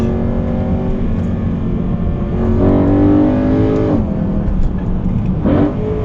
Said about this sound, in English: when you change down, you get a blip